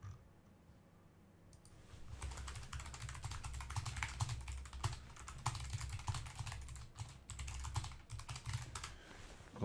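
Rapid typing on a computer keyboard, dense irregular clicking of keys close up, starting after a brief quiet moment and continuing steadily with no talk.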